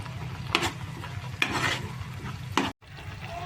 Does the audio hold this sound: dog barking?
no